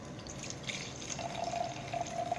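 Wine pours from a can into a glass in a short steady liquid stream that splashes and trickles up close, with a faint ringing tone as the glass fills.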